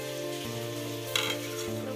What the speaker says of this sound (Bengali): দেখো গোটা গোটা সিম ভাজা বসিয়ে দিয়েছি।